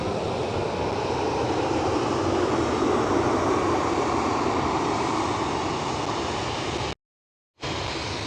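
KLM Cityhopper Embraer E190 jet at Schiphol Amsterdam, a loud continuous roar of engine noise held steady for several seconds before a brief dropout, no voices.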